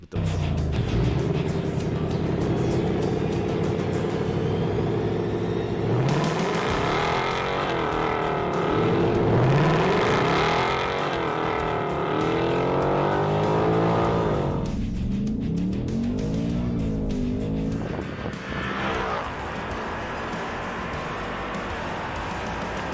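Ford Mustang Dark Horse and Mustang GT drag racing from a dig, both engines roaring loudly under hard acceleration with rising revs, gear changes and a final pull that fades slightly, no talking.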